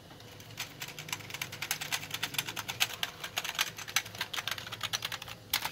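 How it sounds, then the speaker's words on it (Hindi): Rapid, continuous clicking of buttons on a Koyo KY-888 gaming keyboard and mouse combo, a steady patter of light taps heard alone at moderate level without any voices. "और क्लिकिंग जो उसकी एक क्लिक का साउंड होता है ना, वो जेन्युइन साउंड आ रहा है"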